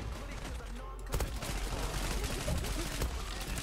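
Rapid bursts of automatic gunfire in the video game Zula, a dense, loud fusillade of close shots filling the clip after a short quieter opening.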